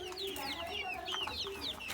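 White chickens on a farm cluck and squawk in quick overlapping calls, close but fairly quiet, over a continuous farmyard background.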